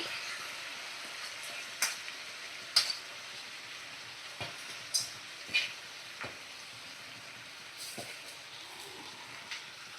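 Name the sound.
soaked Gobindobhog rice added to the pot and stirred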